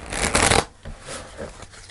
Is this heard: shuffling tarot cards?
yes